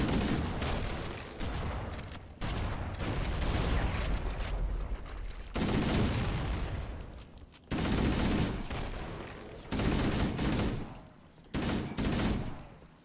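Rapid bursts of shotgun and weapon fire in a Halo CE firefight, repeated loud blasts in clusters separated by brief lulls, close and chaotic with no speech.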